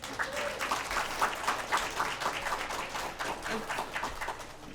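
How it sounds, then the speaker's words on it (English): An audience at an awards event and screening gives a round of applause, a dense, steady patter of many hands clapping together that holds at an even level throughout. "How about another round of applause?"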